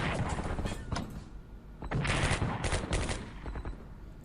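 Naval gunfire in the strategy video game Strategic Command: World at War, loud bursts of rapid shots and booms in clusters, with no voice over them.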